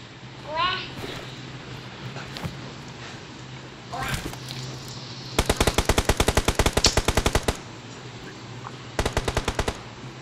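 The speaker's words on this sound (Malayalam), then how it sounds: "അവിടെ വെടി ഉതിർക്കുന്നു." Automatic gunfire in the battle royale mobile game BGMI: long rapid bursts of sharp, loud shots, then a shorter burst near the end, with voices talking earlier.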